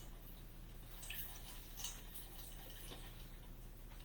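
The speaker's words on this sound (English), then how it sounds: "I'm going to squeeze out that extra water." Water drips and trickles faintly as a thin kitchen towel is squeezed over cooked cauliflower, a few soft splashes and squishing sounds over a low steady hum, no talking.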